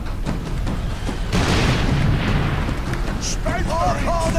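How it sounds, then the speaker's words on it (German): A heavy explosion in the video game Warhammer 40,000: Space Marine, a loud booming roar that swells suddenly and rumbles on for a couple of seconds over ongoing game sounds, with faint voice-like tones near the end. "Explosion."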